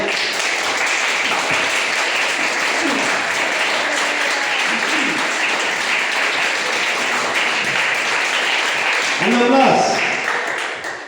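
Church congregation applauding, a dense sustained wash of clapping from many people, steady and loud, with voices audible beneath it.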